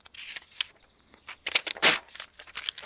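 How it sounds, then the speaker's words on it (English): A sheet of paper is crumpled by hand in quiet, irregular crinkling bursts, close by and fairly soft, with no talking over it. "Now, you can take that paper"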